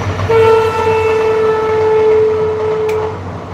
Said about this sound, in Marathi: ट्रेन आता चाललेली आहे